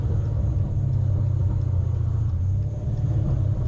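Dodge Challenger ScatPack engine giving a deep, steady low rumble while cruising through city streets, heard from inside the car with no talking.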